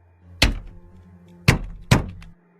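Three heavy, hollow knocks strike a window for a horror story sound effect, one single hit followed after a pause by two close together, loud and near with short decays.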